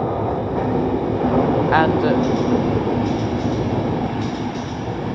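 British Rail Class 350 electric trains pass, a steady rolling rumble with brief wheel squeal and metallic ticks, while someone speaks briefly over the noise.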